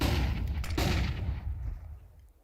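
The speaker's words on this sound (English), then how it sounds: "and Fallen, a blinding couple of headshots comes through on Catwalk" Gunfire from a Counter-Strike match at a BLAST Bounty Malta esports quarter-final, including headshots on the Catwalk area: loud dense burst of shots and impacts that fades away over about two seconds, no talk over it.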